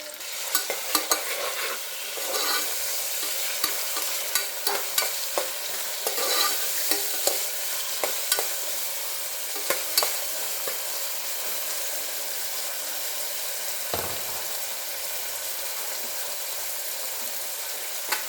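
Green chillies and chili powder fry in a pan for a kichidi, a soft continuous sizzle broken by frequent scraping and clinking strokes of a stirring spoon, close and fairly quiet with no talking.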